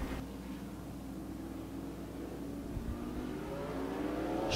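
Super late model race cars accelerating on the Tucson Speedway oval, a steady mid-distance engine roar that rises in pitch and loudness toward the end, with no talk.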